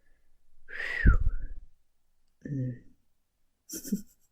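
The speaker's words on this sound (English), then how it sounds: "That wasn't a good whistle." A single rising-and-falling whistle from a person, short and close, followed by brief voice sounds and a breath.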